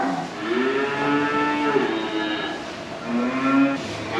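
Cows in a barn being mucked out and bedded with straw, giving long, loud, close moos that overlap and rise and fall, with a second bellow toward the end and no speech.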